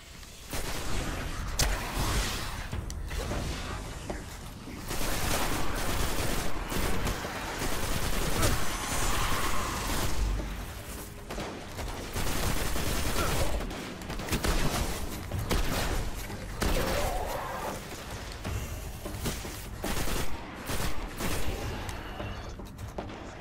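Sustained auto rifle fire mixed with heavier shotgun blasts in the sci-fi shooter Destiny, a dense, loud, near-continuous barrage of rapid shots and booms lasting throughout.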